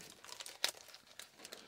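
Plastic bags from an online craft-supply haul crinkle softly while being handled, a steady rustle with one sharper crackle partway through, close by and alone.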